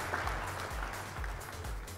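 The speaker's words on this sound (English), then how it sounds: "let's get another round of applause for being the Elite Four today" Applause at the end of a livestreamed Pokémon Fire Red hardcore run finale, heard as a faint, steady wash of clapping over a low rhythmic hum lasting the whole short moment.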